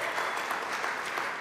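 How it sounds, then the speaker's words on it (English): Concert audience at a live praise music event clapping, a brief dense burst of crowd applause sustained evenly throughout. "Let's give them another round of applause"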